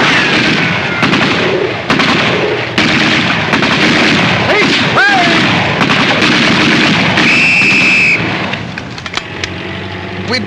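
Loud, dense gunfire and explosive bursts in an old Laurel & Hardy war comedy, with shots and blasts crowding together continuously before easing off near the end; a shout is briefly heard.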